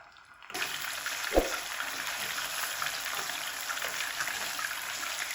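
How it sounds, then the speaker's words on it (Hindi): Chicken pieces frying in oil for a Shahi chicken korma, a steady broadband sizzle that starts abruptly after a brief quiet moment and holds evenly loud throughout, with one short clack early on. "अब इसको उतनी देर भूनेंगे ऑयल के अंदर जितनी देर इसका कलर नहीं चेंज हो जाता"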